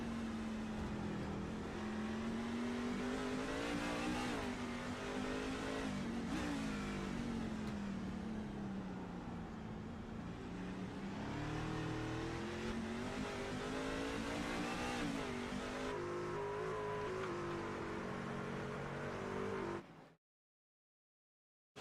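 Onboard engine of a race truck at Sonoma in the iRacing game, a loud sustained drone rising and falling with gear changes and throttle, with other trucks nearby, cutting off abruptly near the end.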